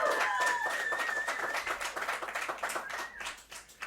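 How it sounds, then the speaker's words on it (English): Studio audience clapping on a talk show, a dense steady patter of many hands close by that slowly thins and softens toward the end, with whistles cutting through near the start. "Go ahead, clap."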